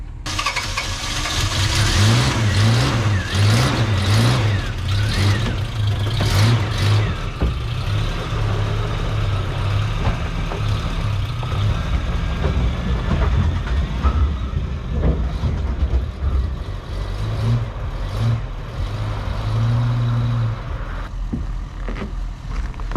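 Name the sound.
1985 Toyota 4Runner engine running after a difficult start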